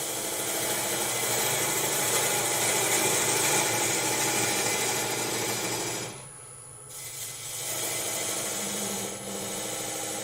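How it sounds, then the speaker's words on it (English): Wood lathe spinning a goblet blank while a skew chisel cuts a spigot, a loud continuous whirring hum with a brief dip midway and steady cutting hiss throughout. "And now I'm just going to cut my spigot."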